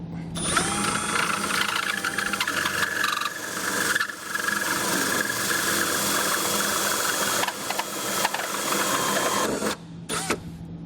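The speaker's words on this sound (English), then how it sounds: "Gonna get everything lined out here and drilled out." A power drill bores a hole for a tail light wiring kit on a 2016 Chevrolet Spark, whining steadily with short pauses and a couple of quick bursts near the end.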